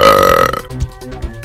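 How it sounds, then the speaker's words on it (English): One long, loud, close burp with a strong pitched drone, followed by softer gurgling throat sounds and a couple of low thumps as it trails off. "I got a fucking burping problem today."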